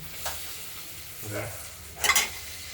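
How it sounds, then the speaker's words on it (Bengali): Giant freshwater prawns fry in hot oil for a curry with potato and tomato, giving a soft, steady sizzle with a couple of brief louder crackling bursts near the end. "মাছগুলো ভাজবে ভাজা হোক তারপর দেখাচ্ছি মাছগুলো ভাজা হয়ে গেছে"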